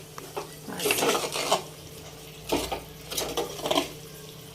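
Chicken being stirred into masala in a pot with a spoon, giving repeated scraping and clinking strokes in bursts, fairly close and moderately loud, with no talking.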